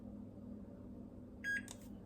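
A kitchen timer being switched to countdown mode gives a couple of short electronic beeps over a steady low appliance hum in a home kitchen.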